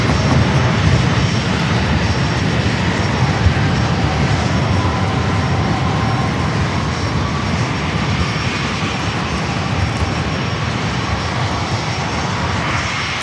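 A Southwest Boeing 737-700 roars through its takeoff roll at San Diego airport, a loud, steady, broadband jet rumble that holds close and constant throughout.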